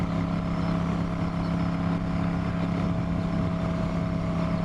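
A V9 Bobber motorcycle cruises on the highway, its engine holding a steady, even drone with a low hum, mixed with constant rushing wind noise for the whole stretch.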